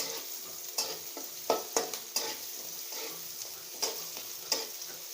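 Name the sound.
frying ingredients in a pan until reddish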